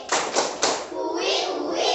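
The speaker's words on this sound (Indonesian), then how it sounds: "kita akan melakukan tepuk Papua. Dalam hitungan 3 kita mulai." A school class performs the Tepuk Papua clapping chant, three loud rhythmic group claps followed by children chanting together in unison.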